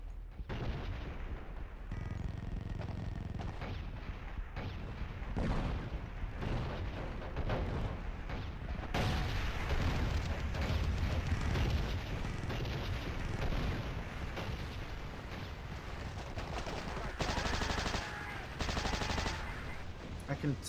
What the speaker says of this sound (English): where are these fucking explosions coming from?